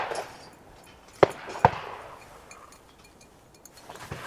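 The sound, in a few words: shotgun shot at clay target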